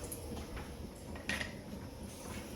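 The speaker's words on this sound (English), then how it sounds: "I'll get a wooden spoon." A wooden spoon is pulled from a kitchen drawer, giving a few close clinks and rattles of utensils with a sharper knock midway, heard alone with no talk.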